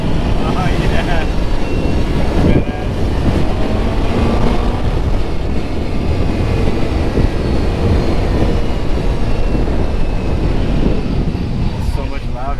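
A Toyota FJ60 Land Cruiser engine drones loudly and continuously from inside the moving vehicle, a dense roar mixed with road and wind noise, with people talking over it.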